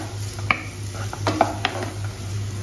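Chopped onions being sautéed in a kadai, with a spoon or spatula scraping and clinking against the metal pan in scattered strokes over a steady low background hum, close and moderately loud, without voices.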